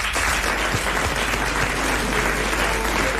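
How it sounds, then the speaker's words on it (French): A television studio audience in full applause, a dense, steady wash of clapping from many hands that holds evenly for the whole stretch. "Vous allez applaudir Monsieur Blavier de Braine-l'Alleud."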